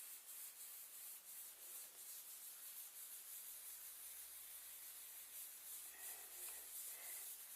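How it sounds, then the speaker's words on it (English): Tracing paper coated with graphite and lighter fuel is burnished with a light rotating rubbing motion, making a soft, continuous papery swishing and scratching that stays faint and steady throughout, with no voices. "Just keep burnishing, and what this does is it sort of fixes the graphite into the tracing paper"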